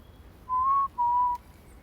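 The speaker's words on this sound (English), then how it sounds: "Here's another chickadee." A chickadee gives two clear, pure whistled notes, the second slightly lower, close and alone against faint background hum.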